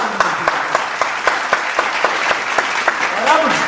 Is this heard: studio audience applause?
yes